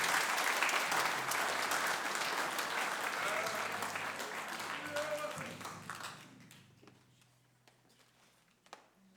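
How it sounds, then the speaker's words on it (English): An audience at a spring band concert applauds the graduating band seniors, with thick sustained clapping and crowd noise and a low hum underneath, fading out after about six seconds into scattered last claps. "a round of applause for all of our seniors"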